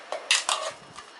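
Soaked, drained rice drops into a steel mixer grinder jar in a few quick clattering, scraping bursts, close and fairly loud, then fades to a faint rattle.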